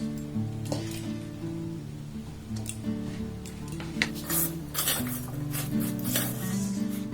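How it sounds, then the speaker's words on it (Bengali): Fried vermicelli mixed with milk powder is stirred in a pan, a soft sizzle beneath scraping and light clinks of the spoon against metal, with a low steady hum throughout and no voices. "মিল্ক পাউডার দিয়ে এটাকে আমি আর একবার খুব ভালোভাবে নাড়াচাড়া করে এইভাবে মিক্সড করে নেব"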